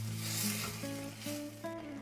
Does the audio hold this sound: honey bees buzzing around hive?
no